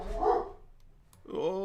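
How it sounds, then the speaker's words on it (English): Several dogs bark in short excited bursts at close range, two distinct volleys separated by a brief pause, loud and sudden in an indoor room. "First time I've had the dogs go bonkers."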